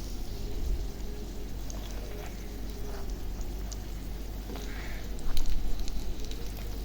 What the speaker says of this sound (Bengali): এই যে দেখুন আস্তে ধীরে ভাজতেছি আমি।